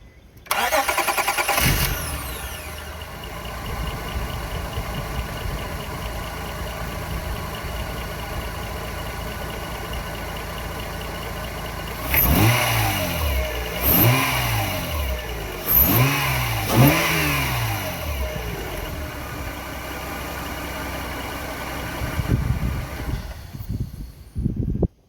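A Honda Acura J-series V6 car fitted with a billet throttle body cranks and starts, settles into a steady idle, then gets several sharp revving blips in a row, recorded at moderate distance.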